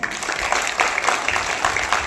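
An audience at a theatre award ceremony claps in a short, steady burst of applause, with a voice faintly audible beneath it.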